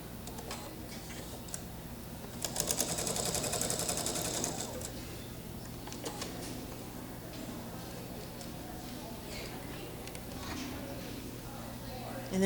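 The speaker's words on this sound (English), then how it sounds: "Sewing a complete seam." Sewing machine stitching a complete seam through quilt pieces, a rapid even mechanical ticking that swells louder for a couple of seconds, with someone talking over the machine and a low steady hum underneath.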